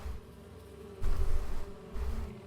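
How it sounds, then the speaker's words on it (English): A steady low insect-like buzzing of bees in Farming Simulator 22 drones throughout, swelling louder in two stretches, like a swarm hovering nearby. "You can hear the bees out there."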